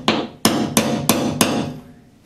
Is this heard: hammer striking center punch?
yes